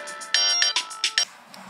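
A phone ringtone plays a short bright melodic phrase of several quick electronic tones, close and clear with no talking over it.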